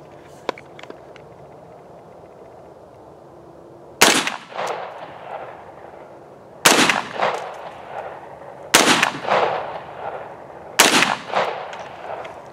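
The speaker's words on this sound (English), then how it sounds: "we'll see how many more shots we can get through the 300." Four loud gunshots ring out one by one, a few seconds apart, each striking a steel plate in a spall test with a sharp crack and a trailing echo, after a quiet stretch.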